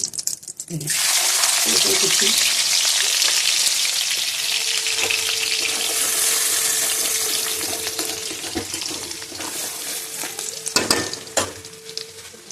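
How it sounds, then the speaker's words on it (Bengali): Capsicum frying in a pan for chili chicken: a steady close sizzle with scraping stirs, a faint tonal hum through the middle, and a few sharp clanks of a utensil near the end. "আর এই যে ক্যাপসিকামটা ভাজা হচ্ছে"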